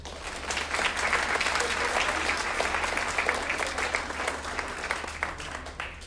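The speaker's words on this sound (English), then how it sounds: "just a nice round of applause for all the storytellers" A live audience at a storytelling event gives the storytellers a warm round of applause, dense and sustained clapping that holds steady and close throughout before easing slightly at the end.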